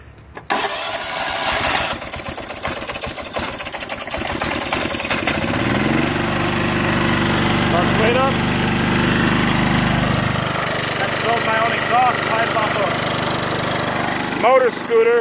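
A motor scooter engine fitted to a homemade sulky starts up and runs, a loud, steady buzzing drone close by that shifts pitch as it revs, with a voice speaking briefly over it.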